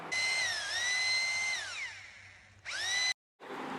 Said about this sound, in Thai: แนะนำนะครับให้ใช้สว่านปั่นปูนนะครับ ผมเพราะเนื้อปูน มันเหนียวมากครับ